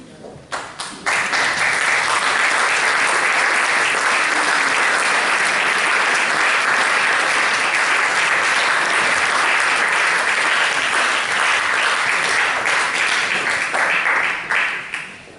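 Sustained audience applause at a Slovenian independence celebration, loud and steady hand clapping from a large crowd that swells in quickly after a brief lead-in and fades near the end.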